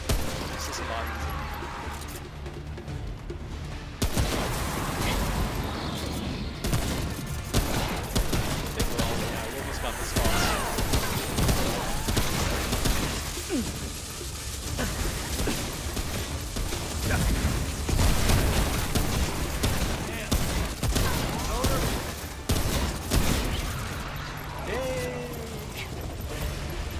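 Gunfire fills a fight in the video game Remnant: From the Ashes, with dense repeated shots, blasts and mechanical clatter running nearly nonstop at high level, mixed with game sound and a voice talking over it.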